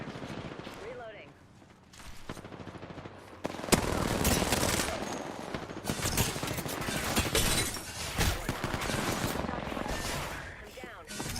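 Gunfire in a video game: dense, rapid volleys of shots and machine-gun bursts run almost nonstop and loud, with sharp individual cracks standing out and a brief quieter stretch early on.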